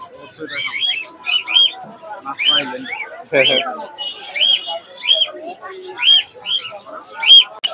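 Pigeons cooing at a busy pigeon market, repeated short coos and chirps close by, mixed with people talking throughout.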